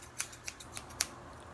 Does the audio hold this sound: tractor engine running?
no